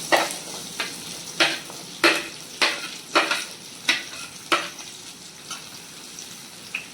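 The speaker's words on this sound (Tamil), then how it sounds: "எண்ணெய் சூடாகிடுச்சு. இப்போ ஆனியன் போட்டுக்கலாம்." Onion hits hot oil in a kadai and sizzles steadily, with about ten sharp stirring strokes in an even rhythm, each a brief scraping burst close by, and no one talking.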